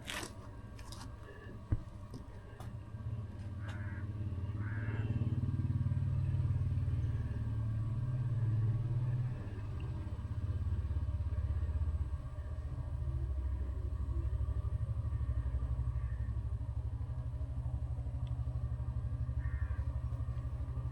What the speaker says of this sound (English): Got to heat the glow plug on the engine, then the tick-tick pump should come in.